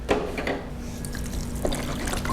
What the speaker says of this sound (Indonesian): Ini semua diperas, masukkan saja untuk bumbu rendaman ayamnya